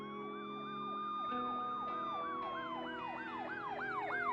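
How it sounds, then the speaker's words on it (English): Emergency sirens wailing in a rising and falling pattern, distant but growing slightly louder as they approach along a street, with a faint traffic rumble underneath. "I could hear the sirens coming in the distance."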